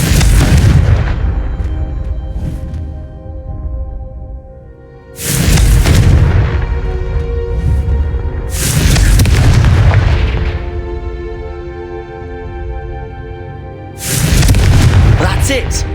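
Fiery Confringo spell blasts in Hogwarts Legacy, four heavy booming explosions spaced several seconds apart, each with a long rumbling, crackling tail, loud and close.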